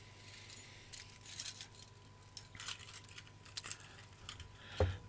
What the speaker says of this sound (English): Trolley keys, or if you're in America, I guess you would call these shopping cart keys